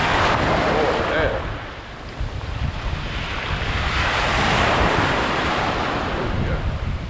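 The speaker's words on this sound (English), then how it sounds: "Waves are gonna get me now." Ocean surf breaks and washes along an unfamiliar beach on the Caramoan Peninsula, a continuous loud roar with wind buffeting the microphone throughout.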